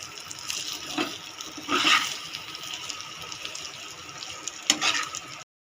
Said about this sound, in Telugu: దీంట్లోనే మనం కొన్ని నీళ్ళు అయితే వేసుకున్నాం